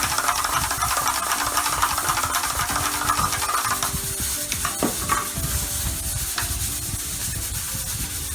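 Coconut milk is stirred into a pot of stew peas, with a steady bubbling sizzle, a mechanical hum underneath, and a few clinks of utensil against pot, near and without speech.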